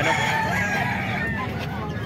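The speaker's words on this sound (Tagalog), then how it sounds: "So maraming manok." Many chickens at a poultry sale in Kalumpit crow and cluck together in a dense, continuous chorus, with a crowd murmuring in the background.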